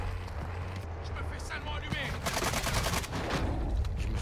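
Bursts of rapid gunfire from a French-language online shooter game, including sniper fire, crackle over the game sound while players talk.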